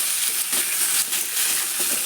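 Pumpkin and boiled chickpeas frying together in a pan with salt, a loud continuous sizzle and hiss broken by soft scraping stirs, with no voices.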